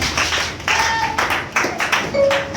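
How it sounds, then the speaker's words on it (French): Church congregation clapping in a French-language worship service, a loose, irregular burst of claps coming in uneven waves, with brief tonal sounds and faint voices mixed in. "Est-ce qu'on peut faire une fois l'acclamation?"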